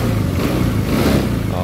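Engine of a Honda Scoopy fi scooter with a fault, revving steadily and loudly up close in a short burst. Talk runs under the engine.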